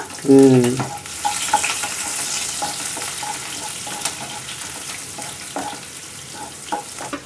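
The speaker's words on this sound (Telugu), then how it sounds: "అల్లం వెల్లుల్లిని గోధుమ రంగు వచ్చేంత వరకు చక్కగా ఫ్రై చేసుకోవాలి" Ginger, garlic and slit green chillies fry in hot oil with a dense, even sizzle close by, following a brief loud clank at the start, with no voices.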